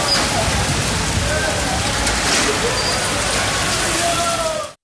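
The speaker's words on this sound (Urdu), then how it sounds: "گرجتے برستے بادلوں نے پورے شہر کو پانی میں نہلا دیا" Heavy monsoon rain pours over Karachi in a loud, dense, unbroken hiss of water striking surfaces, close and constant throughout before cutting off abruptly.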